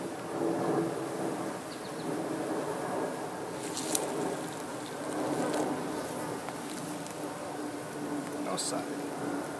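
Honeybees buzz around frames during an inspection of a nuc hive, a steady, dense drone filling the background with a few sharper clicks and handling noises.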